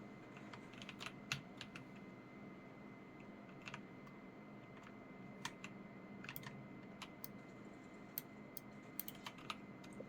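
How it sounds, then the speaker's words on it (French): Soft, irregular keystrokes on a computer keyboard tap out over a steady low room hum, faint and close, with brief clusters of clicks and no speech. "Vous entendez peut-être un petit peu beaucoup mon clavier,"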